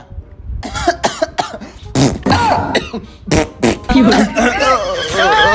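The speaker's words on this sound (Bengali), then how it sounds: "গান গাওয়ার আগে কিছু কাশিয়ার শব্দ আইছে" A person coughs repeatedly and clears their throat close to the microphone, a run of sharp loud bursts with short gaps, ending in voiced throaty sounds.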